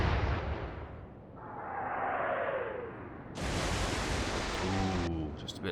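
Royal Navy warship guns firing in Atlantic Fleet, a heavy booming salvo followed by a descending shell whistle, then another loud broad blast, with sea-like rumble underneath.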